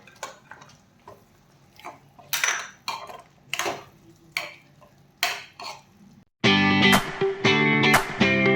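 Fried almonds and raisins being stirred into corn shira in a pan, a string of close metallic spoon scrapes and clinks against the pan, growing louder and denser near the end.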